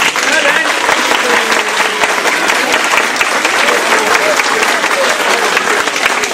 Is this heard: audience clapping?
yes